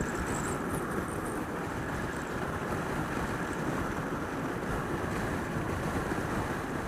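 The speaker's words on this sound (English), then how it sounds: "But there is quite a fair amount of winds." Steady, loud wind roar buffets the microphone during a 2016 Honda Crossrunner motorcycle test ride. It is a constant broadband rush across the whole stretch, with no voice heard.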